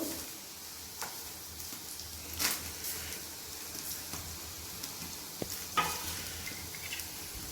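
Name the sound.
roasting peanuts and sesame in a pan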